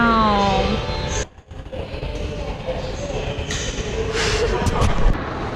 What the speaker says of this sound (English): Oh, look at this train.